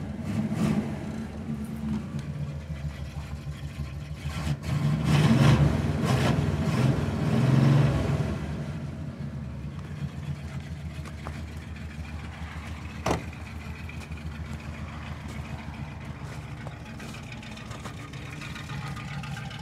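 A 1977 Chevy Monte Carlo's small block V8 runs steadily with a low, continuous engine rumble, swelling briefly louder as it revs midway before settling back to a steady idle with no talking.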